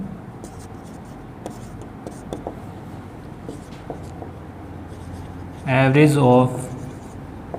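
Chalk or a marker taps and scratches across a board during a Class 10 maths lesson on averages, with light, intermittent strokes, and someone speaks briefly near the end.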